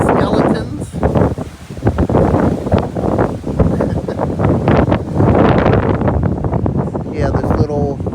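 Strong wind buffets the microphone on a beach boardwalk, a loud continuous roar with gusty swells throughout, while a person talks through it.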